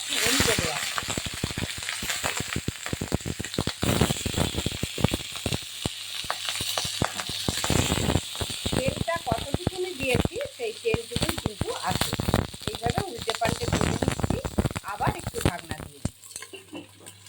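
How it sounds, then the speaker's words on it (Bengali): Banana-flower patauri parcels fry in a pan, a dense, loud sizzle with crackles and spits, punctuated by frequent clattering scrapes as the parcels are turned over. "উল্টে পাল্টে ভাজা হচ্ছে"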